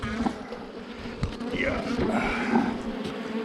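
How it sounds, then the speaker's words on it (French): Honeybees buzz steadily around an open hive while a beekeeper divides a colony, a dense close swarm drone lasting throughout with faint handling noises and a voice beneath it. "Faut faire attention de ne pas écraser d'abeilles, bien sûr."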